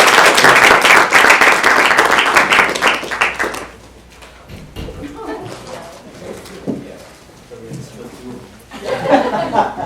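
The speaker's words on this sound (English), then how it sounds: "can we give them a final round of applause?" Audience applause with scattered laughter at a university event honoring Illinois Wesleyan guests; dense clapping for about four seconds, then fading to lighter sounds and chatter before a brief swell at the end.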